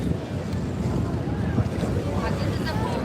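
Staten Island Ferry slowing as it nears the dock, a steady low engine rumble and water wash mixed with wind buffeting the microphone, continuous and fairly loud with no clear speech.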